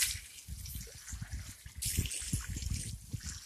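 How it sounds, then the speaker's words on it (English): Water from a well 800 feet deep pours and trickles steadily in a greenhouse, a continuous splashing stream heard up close with no voices. "this water now is coming straight from the well, 800 feet below"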